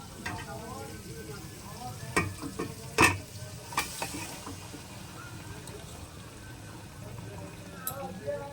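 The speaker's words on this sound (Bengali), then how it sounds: "মাংসটা ম্যারিনেট করা ছিল, এবার আমি দিয়ে দেবো।" Marinated mutton hits a hot pan for a Bengali mutton kosha, a steady close sizzle with scattered scraping stir strokes and a few louder clanks of the spatula against the pan.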